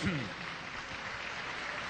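Church congregation breaks into steady, dense applause during a Spanish-language sermon, a brief voice at the very start, then continuous broadband clapping that holds at an even level for the short stretch.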